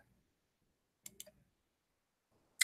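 A computer keyboard being typed on into a chat window during an online webinar: a quick burst of three or four soft clicks, then a lone keystroke a moment later, over near silence.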